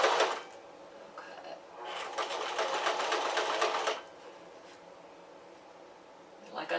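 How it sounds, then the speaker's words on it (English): A sewing machine backstitches a seam on walking shorts, a close rapid mechanical chatter that runs briefly, pauses, then races steadily for about two seconds before stopping, with faint handling noises around it. "Go backwards and then forwards to reinforce the stitch."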